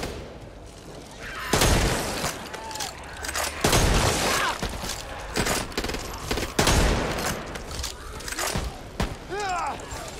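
Gunfire in the zombie shooter Back 4 Blood: several sharp, loud bursts of shots and booms break out at irregular intervals over a noisy game backdrop, while voices talk faintly underneath.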